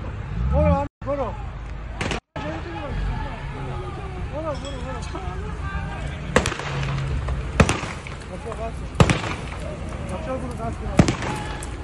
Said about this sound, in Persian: داره تیراندازی میکنن به سمت ملت